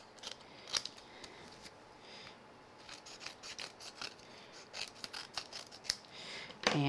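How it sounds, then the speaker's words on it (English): Scissors snip through card, trimming it to the shape of a die in a craft setting, a series of short sharp cuts with rustling paper between them, close and quiet. "I'm going to go ahead and trim this so it's the same shape as the die."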